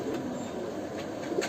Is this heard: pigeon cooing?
yes